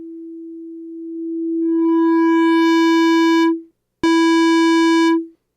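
Synthesized tone from a phase-locked loop VCO driven through a hard clipper, a steady buzzy square wave whose bright overtones swell in over a few seconds, cut off, then return abruptly and hold before stopping.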